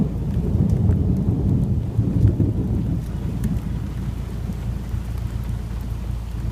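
Heavy rain pours steadily during a thunderstorm at Little River, with low rumbling thunder rolling through the first few seconds and a constant dense hiss throughout.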